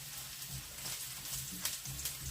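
Steady soft sizzling of onions frying in a pan, a quiet broadband crackle with faint low hum underneath and no voices.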